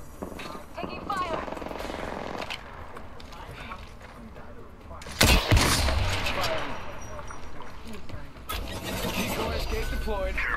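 Gunfire in a battle royale video game, bursts of rapid shots and a loud blast midway over running footsteps and game noise, with a person talking throughout.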